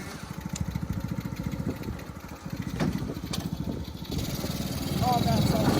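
Small 125cc engine of a GI Joe mini jeep running outdoors with a fast, chugging putter that rises slightly toward the end, close by, while people talk over it.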